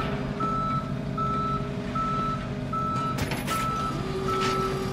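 A tow truck in the video game Police Simulator backs up, its reversing alarm giving evenly spaced, repeated beeps over a constant low engine rumble, with a brief metallic clatter partway through.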